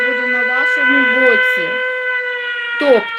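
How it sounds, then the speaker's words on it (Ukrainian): Civil defense air raid siren sounding in Ukraine, a steady layered wailing tone held throughout, loud and close, with a person speaking over it and a brief rise in level near the end. "Увага! по Повітряна тривога."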